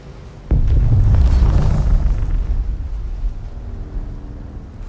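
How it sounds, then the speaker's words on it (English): An explosion in the video game Dune Awakening hits with a sudden heavy boom, then a deep rumbling roar that slowly decays over a few seconds. "Again with the explosions."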